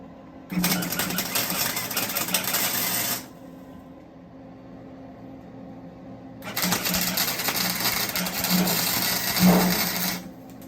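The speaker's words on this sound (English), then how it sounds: "And that's how I get started for the welds. Welding." Spot welding of wires for a Christmas orb held in a jig: two bursts of dense, buzzing electrical crackle, each lasting a few seconds, separated by a quiet pause, close up, with no talk.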